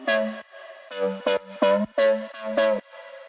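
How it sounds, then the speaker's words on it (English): Square-wave synth wobble with seven-voice unison, barely detuned, and tube distortion, playing chords in choppy rhythmic stabs that pulse on and off, up front with no voices. "The second synth wobble is playing the same chords, and it sounds like this."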